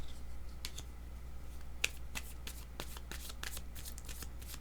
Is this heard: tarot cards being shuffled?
yes